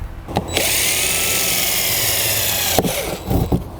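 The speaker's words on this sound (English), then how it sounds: "take an 1/8 inch drill bit, line it up on the cross," A power drill with an 1/8 inch bit whines steadily for a couple of seconds as it bores slowly through a plastic hopper, with brief clicks and handling noise before and after.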